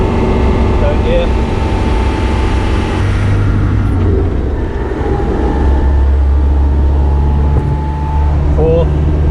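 A Land Rover Defender climbs a hill under power in third gear, its engine and drivetrain droning loud and steady from inside the cab, with a voice talking over it.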